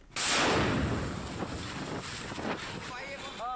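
A loud blast erupts suddenly at a burning game zone in Rajkot and rumbles on as a long roaring wash of noise, fading gradually while a voice starts up near the end.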